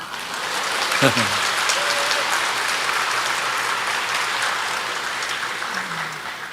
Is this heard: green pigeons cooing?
no